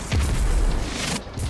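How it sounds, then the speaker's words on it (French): A grenade explodes in the video game Destiny 2, a single deep, heavy boom that rumbles through the whole short moment at close range. "Grenade."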